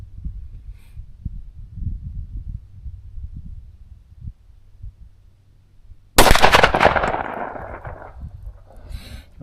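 A single loud 10mm woods-load gunshot from an XDM pistol or Marlin 1894 Trapper rifle cracks out of a quiet, low outdoor rumble and decays over a couple of seconds.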